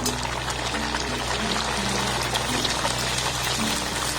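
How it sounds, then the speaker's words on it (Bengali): Dough puffs fry in a pan of hot oil, giving a steady close bubbling and sizzling hiss that runs evenly throughout, with no voices. "একইভাবে সবগুলোকে আমি ভেজে নেব"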